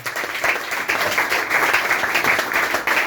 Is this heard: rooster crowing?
no